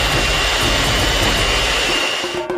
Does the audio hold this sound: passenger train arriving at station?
no